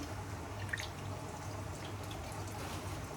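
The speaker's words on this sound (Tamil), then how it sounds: "அதை அப்படியே வந்து நம்ம குழம்புல ஊற்றிக்கின்றோம்." Tamarind water is poured into a fish curry in a clay pot, making a soft, continuous trickling and splashing hiss with a few faint drips, with no talking.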